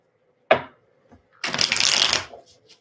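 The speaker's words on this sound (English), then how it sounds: "So let me shuffle really quick." A deck of tarot cards is shuffled at close range: a single sharp riffle burst, a pause, then a longer dense riffle of cards.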